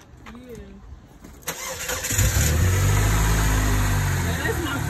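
A Saturn Vue's engine cranks and catches after a moment of quiet with a brief voice, then settles into a loud, steady idle rumble close by.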